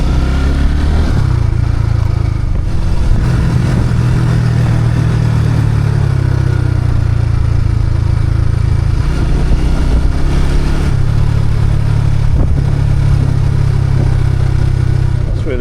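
Motorbike engine running steadily in third gear on a mountain road in Vietnam between Tram Tau and Bac Yen, a continuous loud low drone with slight rises and dips throughout.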